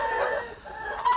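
Chickens and a rooster in a coop, including a blue-egg-laying Ameraucana hen, give a short burst of clucking and calling up close with no voices.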